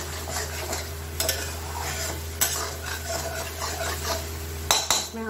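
Tomato, onion and spices for paneer butter masala being stirred in a frying pan, with a steady close sizzle and scraping strokes, and a few sharper clinks of the spoon against the pan.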